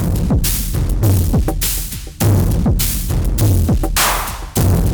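A loud electric guitar through a Neold Big Al distortion pedal plays chopped, rhythmic chords with heavy low-end crunch and brief gaps between phrases, close and steady.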